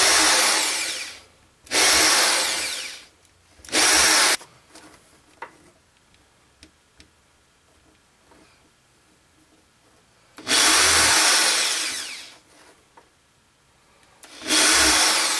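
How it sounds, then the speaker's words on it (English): Small-bit power drill boring a series of holes while building a gold-recovery air bubbler, heard as several loud whining bursts of a few seconds each, separated by quiet pauses with faint handling clicks. "I'm just going to make a bunch of holes going up."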